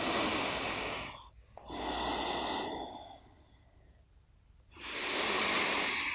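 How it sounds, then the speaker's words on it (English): Deep, slow breaths during a seated yoga stretch, close and airy: a long inhale, a pause, another drawn breath, a quiet lull, then a strong exhale at the end. "Breathing deeply."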